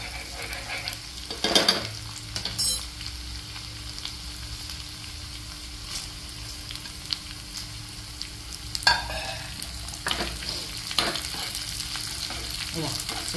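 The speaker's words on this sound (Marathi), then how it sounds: "सगळ्यात शेवटी लाल मिरची टाका, कारण नाहीतर ती लगेच करपून जाईल" Red chili and spices sizzle in hot oil for sambhar, a steady close frying crackle with a few sharper bursts and stirring knocks.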